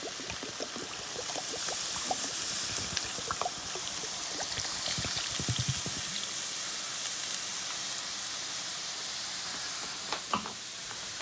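Broth poured into a hot pot for spicy chicken and bean soup and stirred in, heard as a steady hissing sizzle with scattered wet clinks and splashes, loudest in the middle, with no talking.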